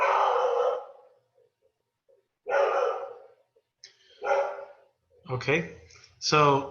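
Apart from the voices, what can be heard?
dog barking in the background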